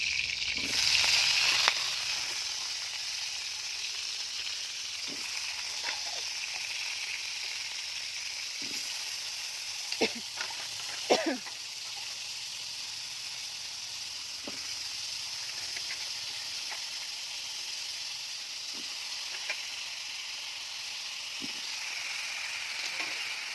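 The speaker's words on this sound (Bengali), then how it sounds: "এবার আস্তে আস্তে কুমড়ো আলুটা ভেজে নেবো ভালো করে।" Pumpkin and potato pieces fry in oil in a wok over a clay stove, giving a continuous, even sizzle with occasional soft clicks and scrapes of stirring, close and with no talking.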